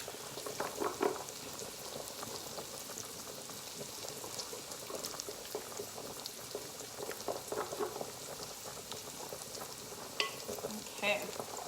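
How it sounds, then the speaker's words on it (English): Egg, cheese and lemon are stirred into hot pasta carbonara in a pan, giving a soft, continuous wet sizzle and scraping with faint clicks of utensils, quiet and close, with no talking. "we're just gonna stir this around and make sure that it's completely incorporated"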